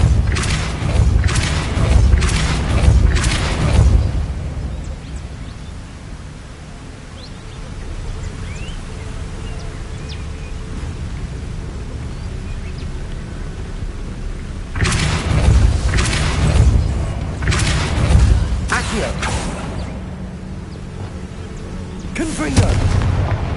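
Depulso spell blasts in Hogwarts Legacy arrive as clusters of booming, thumping impacts, a burst near the start and another run later on, with quieter stretches in between.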